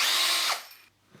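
A cordless drill fitted with a small-diameter hole saw, set in its fastest gear, whines loudly into metal for about half a second, then winds down and fades, with no talk.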